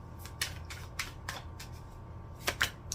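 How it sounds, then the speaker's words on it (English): A deck of tarot cards is shuffled by hand in a quiet room, giving a run of soft papery riffles and crisp slaps at an irregular pace under a faint steady hum. "I'm going to shuffle."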